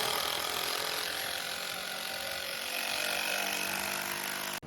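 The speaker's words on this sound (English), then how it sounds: "So he's just screwing those on." A tool fastens bolts onto a jet ski motor stand during assembly, giving a steady, close, unbroken whirring-grinding noise for nearly the whole stretch before cutting off abruptly at the end.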